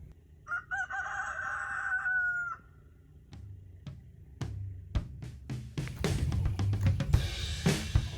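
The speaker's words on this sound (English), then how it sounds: "the roosters are gonna drive me insane" A rooster crows loudly and close, followed by sharp clattering knocks and a busy burst of clucking and farmyard noise.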